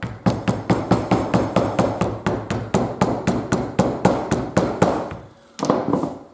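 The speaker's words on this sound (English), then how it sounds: "So back to my hammer." Hammer blows while making a raised belt: about twenty sharp, evenly paced strikes close by, a short pause, then the pounding starts again.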